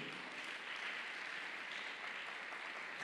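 A church congregation claps and cheers steadily to acclaim the Lord, a continuous wash of applause that stays even for the whole stretch, with no words spoken over it.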